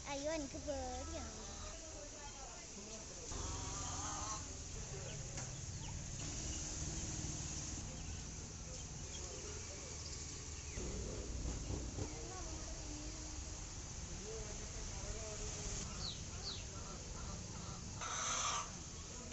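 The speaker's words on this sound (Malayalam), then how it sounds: "ഇതാ കോഴി" Chickens at an agricultural pet and plant shop cluck and call repeatedly amid bird chatter, heard under frequent nearby talk throughout.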